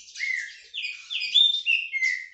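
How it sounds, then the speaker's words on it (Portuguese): A green-winged saltator (trinca-ferro) sings a clear, close run of bright whistled phrases, several rising and falling notes in quick succession with no talk. "o nosso Trinca-Ferro já está cantando muito bem"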